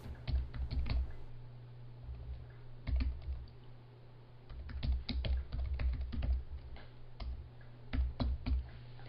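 Computer keyboard typing during a live coding session, steady clusters of quick clicks in bursts with short pauses, close and clear, no talking.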